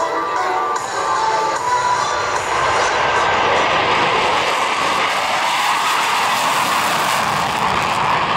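USAF F-16 Thunderbirds jets run their engines up at an air show in Punta Gorda, a loud sustained roar that swells steadily over a cheering crowd.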